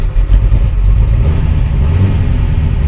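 A Superformance Ford GT40 MKII sports car engine revs up smoothly and loudly, a steady low rumble rising in pitch and holding for a few seconds.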